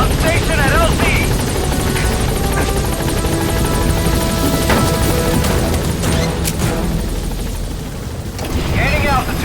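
A helicopter in Metal Gear Solid V: The Phantom Pain arrives at a landing zone with a loud, steady rotor roar and game effects throughout, and a radio voice speaks over it at the start and end.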